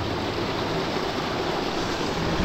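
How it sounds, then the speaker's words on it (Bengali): A rocky mountain stream in the Singalila forest rushes over stones nearby, a loud, constant watery roar with no voices over it. "এই হচ্ছে ঝর্ণা, আমরা ঝর্ণাটা পেরোবো এখন পাথরের ওপর দিয়ে দিয়ে"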